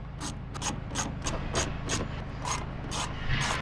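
A ratchet wrench clicks in quick bursts while undoing an 8mm bolt holding a car door speaker, about ten close, sharp ratcheting strokes in a fairly even rhythm.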